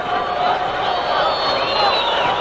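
Vasco supporters in a packed stadium at a 1994 Brazilian championship match against Flamengo fill the air with a steady, distant crowd roar and chant, with a commentator talking over it.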